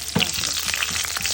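Mustard seeds, dried red chillies and green chillies frying in hot oil for a prawn paneer gravy, a loud close crackling sizzle with quick spattering pops throughout.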